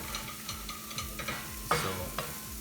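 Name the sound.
akuri masala cooking on high heat in a pan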